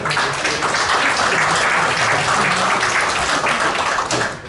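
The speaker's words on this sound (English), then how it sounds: "if we could give them a round of applause" Audience applause for event sponsors at a remembrance symposium, a dense, steady wash of many hands clapping loudly throughout without pause.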